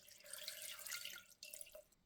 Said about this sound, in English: So now we have added water, just enough to cover the squids.